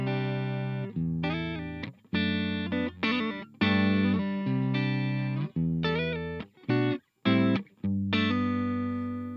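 Electric guitar through a Laney LFS60 amp on the clean channel with all tone controls at the midpoint, played as sustained chords and short phrases with abrupt stops and brief silences between them.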